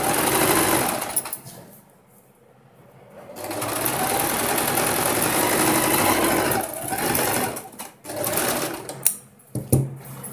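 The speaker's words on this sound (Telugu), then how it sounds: "ఇంకా ఇలా పెట్టేసి హెమ్మింగ్ కోసము మనము స్టిచ్ వేసేసుకుందామండి." Sewing machine hemming a blouse runs in bursts of fast mechanical whirring and clatter, stopping briefly, then resuming, with a few short starts and stops near the end; close and clear, no talking.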